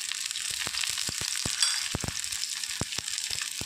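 Kai pathiri frying in coconut oil and ghee, a bright continuous sizzle close up with a series of crisp popping ticks scattered through it.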